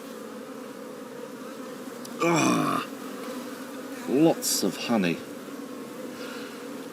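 Honey bees hum softly and steadily around an open top bar hive during an outdoor inspection, a faint continuous drone under a person speaking in short bursts.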